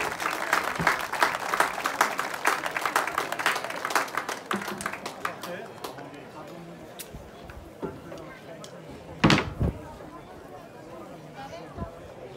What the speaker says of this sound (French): Bravo messieurs, on peut les applaudir,